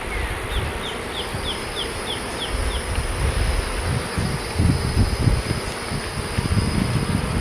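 Honey bees bearding outside a hive during an end-of-May inspection hum in a continuous, steady buzz, with low rumbling handling noise underneath and faint chirping tones near the start.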